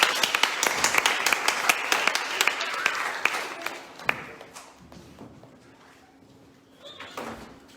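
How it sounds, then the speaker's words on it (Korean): Applause from a congregation at a December worship service welcomes a pastor; dense, steady clapping fills about four seconds, then thins out into scattered claps and quiet room murmur. "우리 함께 박수로 목사님 맞이하겠습니다"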